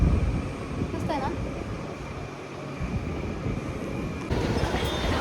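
A train runs on rails with a steady, dense rumble that fills the whole stretch. A brief squeal rises in the middle and the roar swells toward the end. Nobody talks.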